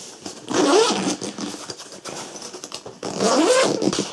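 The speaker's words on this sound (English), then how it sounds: "The zips are really easy to open, just difficult to close on this." The zip on a Cabin Max travel bag is pulled open in two long rasping strokes, close and clear, with rustling of fabric between them.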